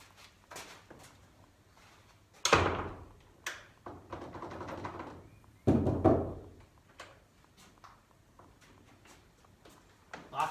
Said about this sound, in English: Locks from the other side.